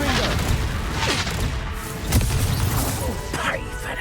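Confringo curse explosions in the video game Hogwarts Legacy, with loud booming bursts and crashes over dense combat sound. A person shouts spell names through it.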